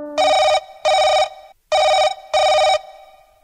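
A telephone rings late at night in four loud, evenly spaced bursts of bright electronic bell tone, each lasting about half a second with brief gaps between.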